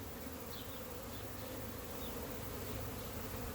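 Honeybees buzz continuously during a hive inspection, a dense close drone with a few individual bees passing near, and no talking.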